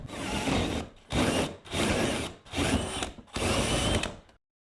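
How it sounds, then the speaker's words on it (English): A power drill drives a hole saw through the insulated wall of an abandoned mobile home, in four loud, close grinding bursts separated by brief pauses before falling silent. "That was the easiest building I've ever hole sawed through."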